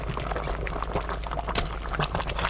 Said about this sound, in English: Go ahead and throw the radishes in there.